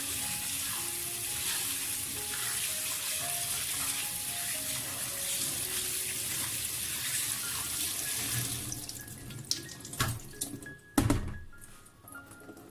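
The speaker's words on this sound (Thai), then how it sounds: "ล้างให้น้ำค่อนข้างใสเลยค่ะ" Tap water runs steadily into a sink while pork liver is rinsed until the water runs fairly clear, a continuous broadband wash that cuts off near the end, followed by a few scattered clatters and splashes.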